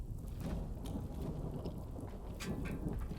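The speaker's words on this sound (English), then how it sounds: "Why is it raining inside the ship?" Rain and thunder heard inside a ship in the video game Death Stranding 2: steady hissing rainfall with low rumbling thunder underneath, continuous and moderately quiet, no talking.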